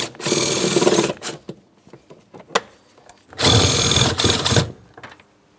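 A power tool drives out two 10mm mounting bolts from a rear HVAC blower motor assembly on a 2008-2016 Chrysler Town & Country. It whirs loudly and close in two sustained runs, with short clicks and handling knocks between them.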